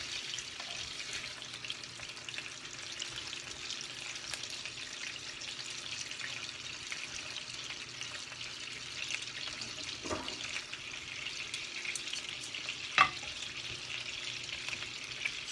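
Chicken tenders coated in egg wash sear in a hot pan, giving a steady, moderate hiss of frying throughout, with a couple of brief clinks or scrapes partway through and no talking.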